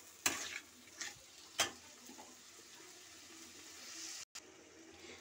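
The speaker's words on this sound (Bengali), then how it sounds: "হালকা যে পোস্ত বাটিটা ছিল আমি এর মধ্যে অল্প একটু জল দিয়ে আমি এটাকে ভালো করে নেড়ে নিচ্ছি।" A spoon stirs potato and ridge gourd curry with poppy seed paste and a little water in a pan, giving a few sharp scraping knocks over a soft wet simmer.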